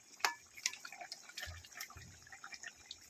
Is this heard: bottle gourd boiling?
yes